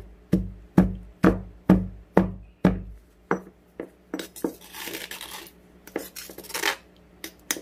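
Sesame seeds are pounded in a mortar with a steady run of firm, evenly spaced thuds close up, then softer, irregular knocks and grinding scrapes as the rhythm loosens.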